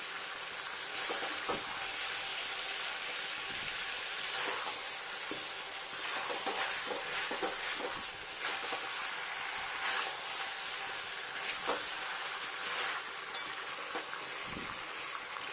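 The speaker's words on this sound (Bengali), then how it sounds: "ভালো করে উপর নিচ কষিয়ে নেবো সুন্দর করে।" Chicken kosha with potatoes stirred and fried in a pan, with ginger, onion, garlic, nutmeg and chillies, sizzling steadily and close, with scattered scrapes and clinks of stirring throughout and no talking.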